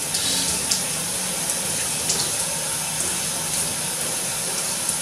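Shower water runs steadily and fairly loudly, a dense, continuous spray of hiss and splatter with no talk over it.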